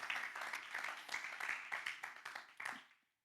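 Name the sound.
congregation applauding in church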